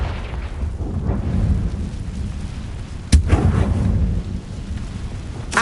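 A Confringo blasting spell cast in Hogwarts Legacy on PS5 gives a sharp, loud blast about midway, with a booming rumble and crackle around it over steady low game ambience.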